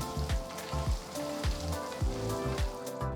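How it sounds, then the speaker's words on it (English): Green chilies, ginger and asafoetida sautéing in a hot pan, a steady close sizzle and crackle with rhythmic soft stirring taps, no voices. "Let these saute for a few seconds."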